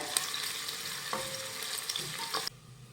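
Finely chopped onions for misal sauté in hot oil, giving a steady close sizzle with light stirring scrapes, and the sizzle softens abruptly near the end.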